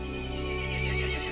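Horse neighing in the video game Resident Evil Village, a single close, loud whinny over a sustained low tonal hum.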